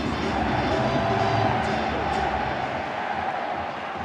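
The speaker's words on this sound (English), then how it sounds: "a definitive cheer and a definitive groan in reaction to what's just happened" A rugby league stadium crowd at a St Helens match lets out a broad, steady mix of cheering and groaning, a dense wash of voices at moderate distance that eases slightly toward the end.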